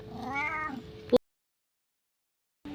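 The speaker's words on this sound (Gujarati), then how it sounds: "અમાર મીંદડો" A single cat meows once, clear and nearby, ending in a short click, followed by near silence.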